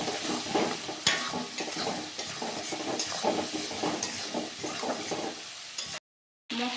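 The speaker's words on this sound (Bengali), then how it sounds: "একসঙ্গে দিয়ে আমি ভেজে নিব।" Ground cumin, turmeric and chili powder frying and being stirred in a hot pan for a fish and potato curry, a steady close sizzle with scraping stirs throughout, then a brief cut near the end.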